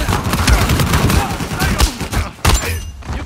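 Gunfire from a gun in the video game Uncharted 4 survival mode, a loud cluster of rapid shots and thuds close up, with speech and game sounds mixed in.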